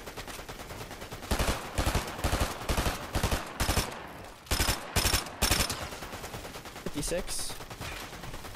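Gunfire in the video game Fortnite comes in several loud, rapid volleys separated by short pauses, with a voice talking briefly between bursts.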